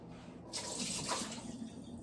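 Water is poured out of a pot into a sink in a kitchen, a brief soft splashing stream that swells for about a second and then trails off, quiet and close.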